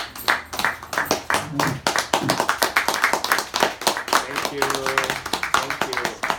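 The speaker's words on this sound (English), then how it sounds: "Can we give Baba a huge round of applause, please?" An audience claps at the end of a question-and-answer session on African traditional religion, a close burst of irregular hand claps running throughout, with voices talking over it.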